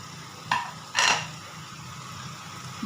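Sugar, Kashmiri chili powder and salt being stirred in a pan, with two short, sharp utensil clinks against the pan over a quiet background.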